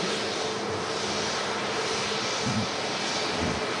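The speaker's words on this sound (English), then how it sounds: "There's a helicopter about to pass across the end of the runway" A Leonardo AW109 helicopter passes across the end of an airport runway, heard as a loud, steady engine and rotor roar that holds constant throughout, with no talk over it.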